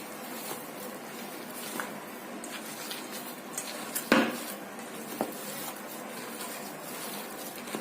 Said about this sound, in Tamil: எல்லாத்தையும் நல்லா கலக்கிக்கங்க.